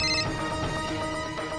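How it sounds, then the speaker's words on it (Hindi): A mobile phone ringtone plays steadily at moderate level in a home setting, a continuous tonal melody with no speech over it. "माँ का फोन आया है।"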